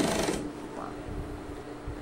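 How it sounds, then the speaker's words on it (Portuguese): A sewing machine stitching with thick topstitch thread gives a short, close whirring burst, then fades to faint mechanical ticking. "A linha que eu tô usando, que era pesponto da calça, é bem grossa. Então tá até fazendo um barulhinho diferente na máquina."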